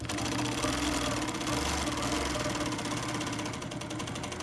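An Innova longarm quilting machine stitches wavy lines on fabric, its needle hammering in a fast, steady, rhythmic chatter close by, continuous throughout and easing slightly near the end.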